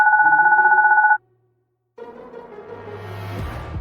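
Phone ringing in the game Goodbye Deponia, a bright electronic two-tone trill that rings loud and steady for about a second, cuts off, then gives way to other game sounds.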